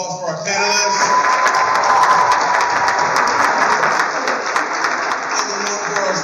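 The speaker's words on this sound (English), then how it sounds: "Let's give one more round of applause for our panelists." A high school audience applauds alumni panelists with loud, sustained clapping and scattered cheers, and a few voices can be heard within the crowd noise.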